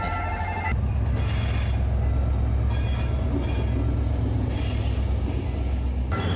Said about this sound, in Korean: 기차 소리 들린다.